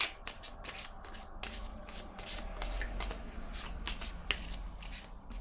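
A deck of cards is shuffled by hand at close range, making a quiet run of rapid riffling and rubbing bursts in an irregular rhythm.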